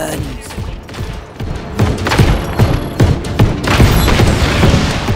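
Rapid, loud booms and thuds burst one after another in the video game Just Cause 3, with crackling blasts building toward the end, dense and close.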